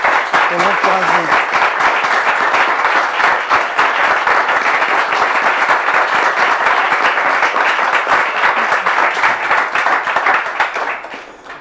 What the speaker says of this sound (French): Là, ça sera des applaudissements pour elle